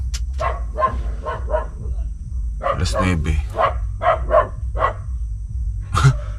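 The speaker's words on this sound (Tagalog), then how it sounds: "Inaaway ng aso yung ano, yung dumadaan." A dog in a rural province barks at passing people and tricycles, a series of sharp, moderately distant barks in uneven clusters over a low rumbling background, with a person speaking briefly.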